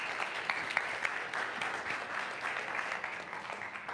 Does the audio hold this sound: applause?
yes